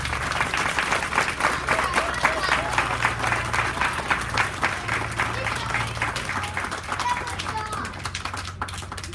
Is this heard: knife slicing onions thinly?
no